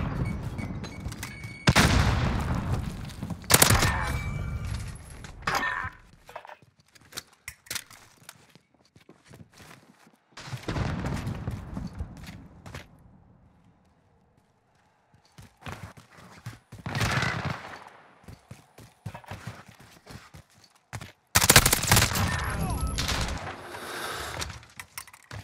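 MP5 submachine gun fire in a round on the Petrograd map, short rattling bursts broken up by footsteps and long quiet stretches, with a louder volley near the end.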